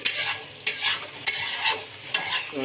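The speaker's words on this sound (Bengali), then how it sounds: "এবার সেটাকে নিয়ে ভালো করে ভেজে নেওয়া হচ্ছে পেঁয়াজের সঙ্গে।" Spice paste and onions fry in a wok, stirred in four rhythmic scraping strokes over a bright, constant sizzle, close and loud.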